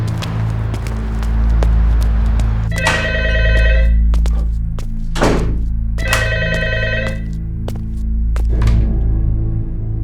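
A landline telephone rings in two clear bursts of bright, rattling bell tones over a low steady hum, with a brief thud between them and a faint third ring at the end.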